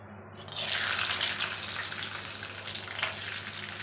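Almonds fry in hot oil for a sago kheer recipe, a bright steady sizzle bursting up as they hit the pan and continuing close and loud, with no talk.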